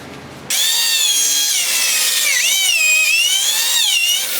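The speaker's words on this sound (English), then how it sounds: "I'm going to take the Craig tool and do some pocket screws all around it on the inside." A drill driving pocket screws through a Kreg jig into a spalted oak dining table, one loud, sustained high whine that starts abruptly and bends in pitch as the screw seats.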